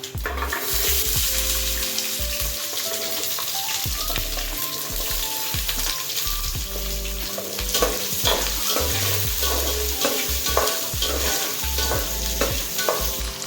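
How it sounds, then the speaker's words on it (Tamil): Small shallots sizzle and fry steadily in a hot pan for a Tamil kara kulambu, while a utensil stirs and scrapes against the pan now and then. "சிறுவங்காயம் நல்லா வதங்கிட்டு இருக்கு"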